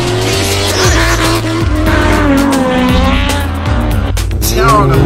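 A drift car at the D1NZ National Drifting Championship round gets clutch-kicked into a slide. The engine howls loudly and rises and falls through gear changes while the tires squeal continuously close by, with a commentator's voice faint underneath.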